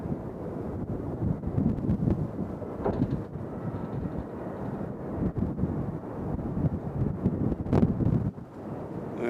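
Gusty wind blowing across a microphone outdoors at an airport, loud uneven rumbling buffets that rise and fall continuously with no voices.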